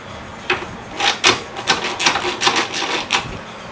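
Quick, close ratcheting clicks in a steady run of about a dozen bursts as a 10mm ground bolt is backed out of the valve cover on a Honda Integra B18 engine, loud and with no talking.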